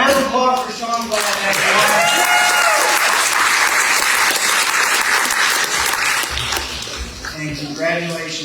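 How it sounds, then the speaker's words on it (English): An audience at an 85th anniversary variety show breaks into loud, sustained applause for Sean Blatt. A voice is heard at the start and again as the clapping fades near the end. "Round of applause for Sean Blatt."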